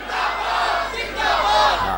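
A large crowd at a Milad gathering chants a religious slogan back in unison, loud and close, with two swelling surges of voices.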